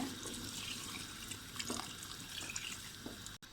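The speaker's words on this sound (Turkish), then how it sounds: "Şimdi üzerine geçecek miktarda suyumu da ilave ediyorum yemeğimize." Water is poured steadily into a pot of olive-oil dried beans on the stove, a continuous close splashing that ends abruptly near the finish.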